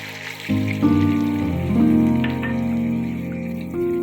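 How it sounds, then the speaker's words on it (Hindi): A glass of water is poured into beef kofta curry frying in a pan, making a sudden loud hiss and bubbling sizzle that holds steady for a few seconds close up, with no one speaking. "अब हम इसमें 1 गिलास पानी ऐड करेंगे।"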